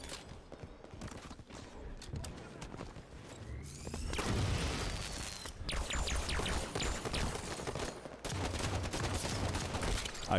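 Bursts of video game gunfire come in rapid volleys, with sharp cracks and booming shots that build into dense, loud exchanges over a steady background.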